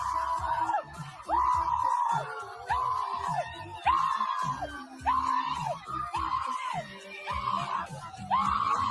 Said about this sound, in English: Why are they screaming?